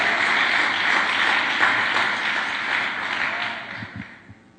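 A church congregation applauds during an evening service, a broad, sustained wash of clapping that tapers off near the end.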